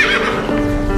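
A horse at the stables lets out a loud, close neigh, a sustained whinnying call that fills the whole moment with no talk over it.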